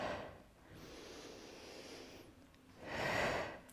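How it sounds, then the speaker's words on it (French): A breathy exhale during a Pilates abdominal exercise, with a soft airy breath near the start, a quieter stretch, then a stronger, louder outward breath close to the microphone toward the end. "J'expire."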